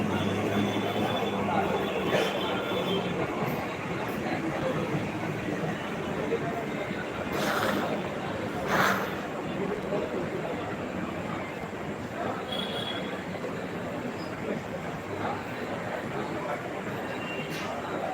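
Ambient noise at a railway station, a steady broad wash of crowd murmur and distant rumble with occasional brief clanks and squeals, no clear speech.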